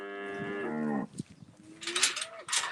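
Cows lowing in a beef farm barn, one long, close, deep moo followed by a shorter second call and some rustling and clanking around it.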